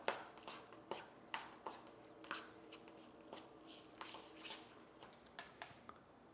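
Grated Parmesan, onion powder, salt and pepper being stirred together in a bowl for a ricotta filling, a quiet series of soft scraping and tapping strokes at an uneven rhythm, close up with no talking.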